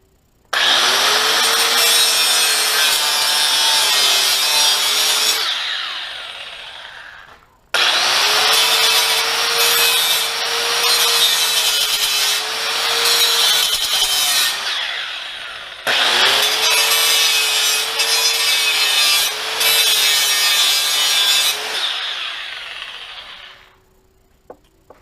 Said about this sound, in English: Stainless steel wire brush.